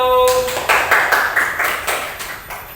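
A small group claps for group 1 during a school coaching session, a brief tone followed by a short run of distinct, rhythmic claps close by, tapering off toward the end.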